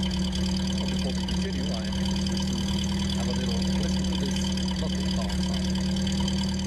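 A loud car engine drones steadily throughout at a constant idle-like pitch, with someone talking over it nearly the whole time.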